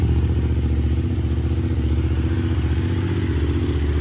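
A motorcycle fitted with an aftermarket Scorpiovic HP exhaust pipe idles and revs loudly up close, a steady throbbing engine note running throughout with no talking.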